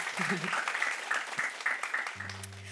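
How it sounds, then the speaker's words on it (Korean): A church audience applauds at the end of a Q&A session, a moderate stretch of clapping running steadily, with a voice speaking over it and a short musical tone near the end. "큰 박수 부탁드립니다"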